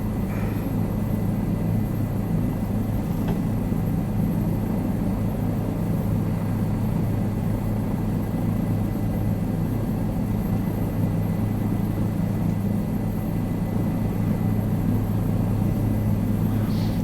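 A steady low engine drone with a constant rotor-like rumble holds for the whole stretch, a helicopter hovering in Microsoft Flight Simulator 2020, with no voices over it.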